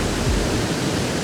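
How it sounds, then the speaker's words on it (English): Bridal Veil Falls at Niagara Falls pours down in a loud, dense, unbroken roar of rushing water, a close broadband wash with no pauses and no voices. "on the left side here, the water is actually Bridal Veil Falls"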